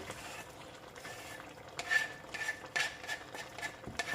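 Chopped basil being stirred into a pan of ratatouille niçoise, giving soft scraping and wet clatter from a spoon in repeated strokes, moderately close and fairly quiet, with no talking.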